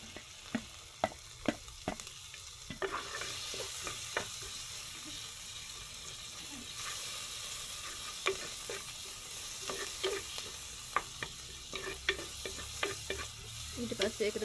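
Big onions sizzle in a pan while an atu kakiri curry is being made, with a steady soft frying hiss and scattered clicks and scrapes from stirring.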